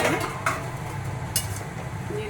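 Chicken being stirred in a cooking pot while it braises, soft scraping and clinking of a utensil against the pot with a few sharper metallic knocks, fairly quiet, with faint talk underneath.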